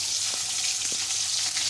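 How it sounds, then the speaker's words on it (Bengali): Chicken pieces fry in bubbling hot oil near the end of cooking, making a dense, continuous sizzle up close with no talk over it. "তেলটা আমাদেরকে সংকট দিচ্ছে যে হ্যাঁ তেলটা একটু কম ফুটছে মানে যে ভাই এখন তুলে নাও।"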